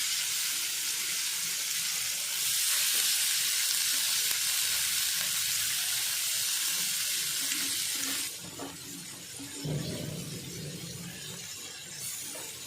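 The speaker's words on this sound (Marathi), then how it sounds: "आता जरा गॅस कमी करते मी आणि मेथी टाकते" Fenugreek leaves sizzling in a pan for a spicy methi besan zunka, opening with a loud frying hiss that brightens as they hit the oil, then dropping to a softer crackle with clinks of stirring near the end.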